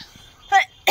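A person coughs twice in a home kitchen near a wood-fired chulha stove, two short harsh bursts separated by a brief pause, close and fairly loud.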